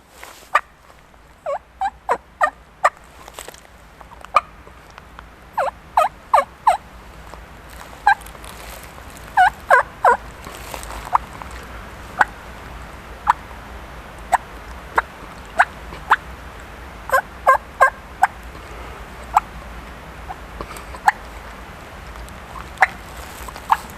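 A hunter softly imitates wild turkey calls under his breath outdoors, close to the mic: short clucks and yelps in irregular bursts and pauses over a quiet background.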